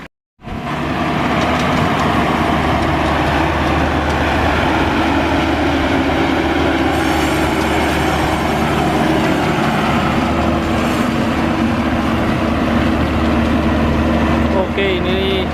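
A Maxxi Bimo rice combine harvester runs in a rice field with a loud, steady engine drone and mechanical rattle, starting abruptly and continuing close for the whole stretch, with some talk underneath.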